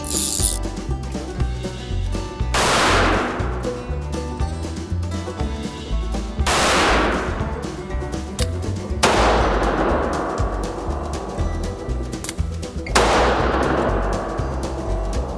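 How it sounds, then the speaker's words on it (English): A North American Arms Pug .22 Magnum mini revolver is fired in a close-range drill on a range, with four sharp, loud shots spaced a few seconds apart over a steady background hum. "It's designed to draw from concealment and get rounds on target fairly quickly."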